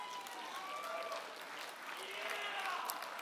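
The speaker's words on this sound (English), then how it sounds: "Let's give them another round of applause." Crowd applause at an awards presentation for the Finke Desert Race, honouring race finishers; steady, fairly distant clapping fills the whole stretch with faint voices and a few whistles above it.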